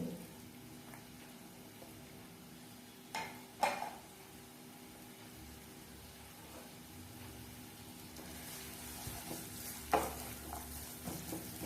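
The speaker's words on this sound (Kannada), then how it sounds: "ಕೆಂಪಗಾಗುವವರೆಗೆ ಫ್ರೈ ಮಾಡ್ಕೊಳ್ಳಿ" Chopped onion frying until reddish for a chicken gravy, a steady low sizzle with occasional scraping stirs and brief clinks of a spoon against the pot, no voices.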